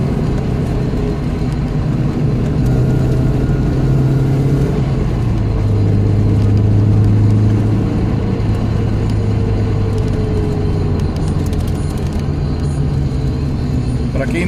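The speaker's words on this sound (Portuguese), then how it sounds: "Isso aí, pra quem não conhece, é um Ford Mustang Mark I." 1969 Ford Mustang Mach 1 on an open road, its engine giving a deep, steady rumble that swells and rises in pitch midway, with people talking over it throughout.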